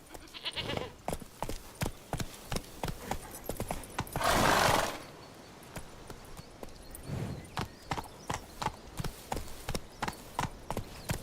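Roach, Geralt's horse in The Witcher 3, trots along with a steady, rhythmic clip-clop of hooves, close and clear, briefly broken by a louder burst that may be a snort or whinny before the hoofbeats resume.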